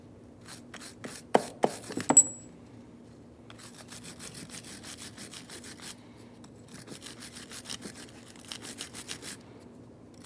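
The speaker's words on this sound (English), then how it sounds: "I'm just going to hit that really quick with a wire brush." Wire brush scrubbing rust off a front brake part on a 2015-2019 Hyundai Sonata, a few sharp scrapes followed by steady fast rhythmic rubbing strokes, close but fairly quiet.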